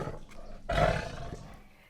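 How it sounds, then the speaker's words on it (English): A single tiger roar swells suddenly and fades over about a second, a loud, close, rumbling call rising from a quiet background. "Can you pretend to roar like a tiger once more with me?"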